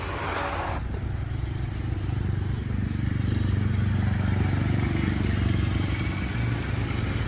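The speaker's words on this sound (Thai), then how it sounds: "เดี๋ยวเรามาฟังเสียงเครื่องยนต์กันนะฮะ" A 2012 Mazda 2 Elegance Spirit's 1500 cc engine idles smoothly and steadily, a constant low rumble throughout, preceded by a brief hiss at the start.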